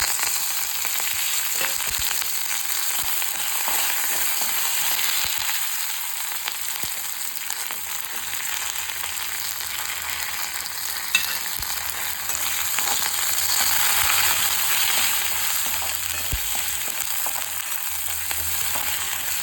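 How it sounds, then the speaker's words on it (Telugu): Curry leaves, ginger and green chillies sizzle steadily in hot mustard-seed tempering for oats and soya granule upma, a loud, continuous frying crackle with no voices. "ఆవాలు కొంచెం పట్టుపట్లాడిన తర్వాత, పోపు వేగిన తర్వాత కరివేపాకు, అల్లం, పచ్చిమిర్చి వేసేద్దాం"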